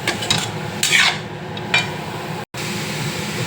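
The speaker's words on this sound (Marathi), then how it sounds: "मशरूम थोडं हलवायचं, मिक्स करून घ्यायचं." Mushrooms and onion being stirred in a pan, giving soft scraping, rasping strokes against the metal in a few brief bursts over a steady background, close and fairly quiet.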